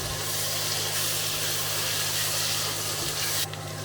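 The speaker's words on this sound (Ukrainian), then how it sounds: "поки моркву натирали, цибулька вже підсмажилась" Steady, close sizzling of onion frying in hot oil, continuous and bright, with a low background hum; the sizzle drops off sharply near the end.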